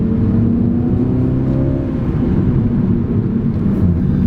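Engine of a 2020 Mini Cooper JCW driving fast through corners on a mountain pass, a steady, loud low drone and road roar holding constant throughout with no talking.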